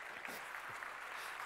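An audience claps at a lecture, a soft, even patter of many hands heard from a distance with no voices over it.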